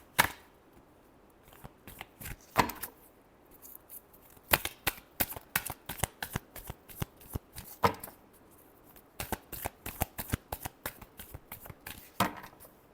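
Tarot cards are shuffled by hand in repeated bursts of sharp riffling flutters separated by short pauses, close up and with no talking.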